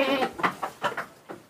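A goat on a farm bleats in a rapid series of short, close, nasal cries, about six in quick succession. No voice is heard over them.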